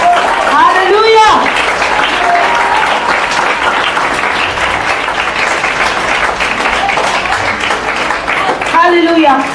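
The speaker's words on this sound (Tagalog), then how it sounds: "Pwede ba tayong pumalakpak sa Panginoon ngayon?" A church congregation claps and cheers in sustained applause that stays loud throughout, with voices rising over it at the start and end.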